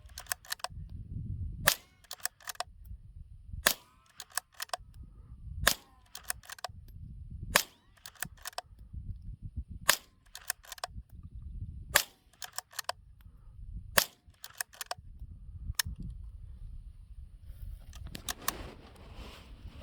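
A bolt-action .22 rifle fires during target practice, with about nine sharp cracks spaced a couple of seconds apart and quieter mechanical clicks and rustling between the shots.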